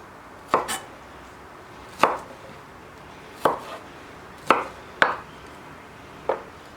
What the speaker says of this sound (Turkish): Şöyle sarımsaklarımı sadece büyük olanları ikiye dörde bölüyorum.